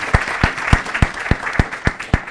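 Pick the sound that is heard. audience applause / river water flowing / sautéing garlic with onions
audience applause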